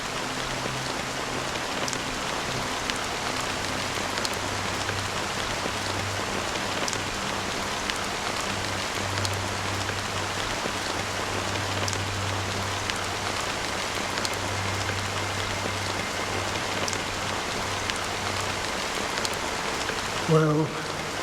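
Steady rain falls and patters on a surface throughout, a dense continuous hiss with a low hum beneath and a brief louder knock near the end.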